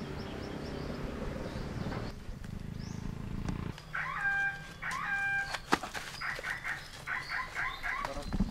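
Small young animals give high, squeaky, puppy-like whimpers in repeated short bursts close by in San Juan, Batangas, over rustling and background noise, with no talking.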